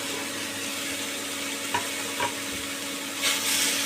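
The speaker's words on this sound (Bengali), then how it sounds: "এবার বন্ধুরা আমি আলুগুলো ছেড়ে দেবো।" Cut potatoes fry in a hot pan among mixed vegetables and green chillies, giving a steady close sizzle. A few soft stirring knocks sound near the end, and no one speaks.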